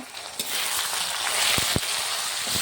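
Taro and onion fry in hot oil with ginger paste in a pan, giving a steady, close sizzle broken by a few sharp stirring knocks.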